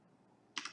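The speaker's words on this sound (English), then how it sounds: "I'm going to type cmd.exe" A few quick, faint keystrokes tap on a computer keyboard at the end of a short quiet moment.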